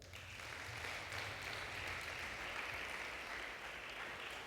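A church congregation gives a round of applause during a Spanish-language sermon, a steady, fairly distant wash of clapping lasting several seconds with no talk over it.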